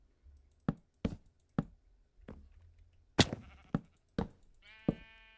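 Sheep bleat in the background as a series of sharp, separate cries and knock-like hits spaced about half a second apart, with one longer, drawn-out bleat near the end and no talking.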